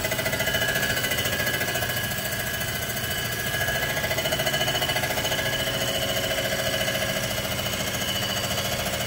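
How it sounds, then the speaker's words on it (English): A milling machine decks a Chevy 454 engine block being built into a 498, giving a loud, steady grinding chatter with a constant machine hum that runs unbroken throughout, no voices. "we're milling and decking our 454"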